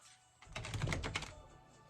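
A quick burst of large, stiff tarot cards being shuffled, a rapid flurry of papery clicks and riffles lasting about a second, close and fairly quiet.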